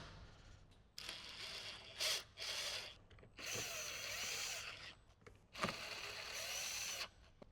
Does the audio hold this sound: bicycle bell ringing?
no